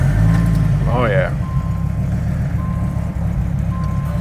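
A Dodge Viper GTS settling into a loud, deep, rumbling idle right after starting up, heavy low engine tone filling the space while a person briefly speaks and a short warning chime repeats in the cabin.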